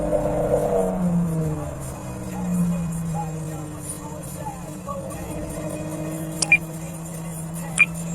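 A Ford F-350 pickup towing a small tractor on a utility trailer pulls out across a highway, its engine and tire noise rumbling steadily beneath ongoing traffic, with a couple of brief sharp ticks near the end.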